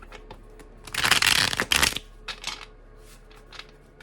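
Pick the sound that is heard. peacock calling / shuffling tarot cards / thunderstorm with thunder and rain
shuffling tarot cards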